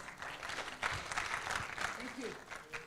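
Applause from staff at a semi-annual all-staff meeting, a steady patter of hand clapping with voices talking over it throughout.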